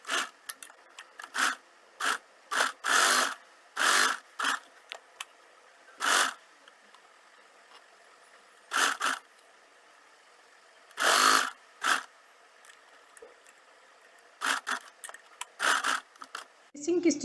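A home sewing machine stitches the fabric casing edges of a potli bag in short, separate whirring bursts with quiet gaps between them, close by.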